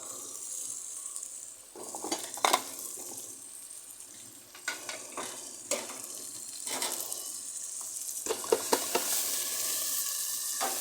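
Fresh mint leaves added to fish curry frying in a pan, a soft sizzle with repeated clattering stirs and scraping bursts, fairly quiet and close, no talk.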